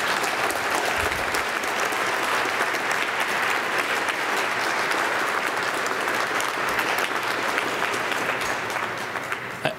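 An indoor audience at a panel event on tar sands, pipelines and tankers applauds four panelists as they arrive, a dense, sustained wash of clapping at steady volume for about ten seconds.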